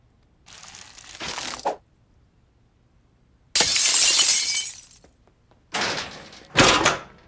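Glass shatters in three loud, separate bursts of breaking and crunching shards, each about a second long, with quiet gaps in between. No one speaks.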